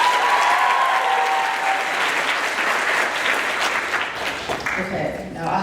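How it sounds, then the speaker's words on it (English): Audience applause for a junior student introduced at a maritime archaeology talk, a loud sustained burst of clapping that gradually thins toward the end. "everybody clap for Sahar"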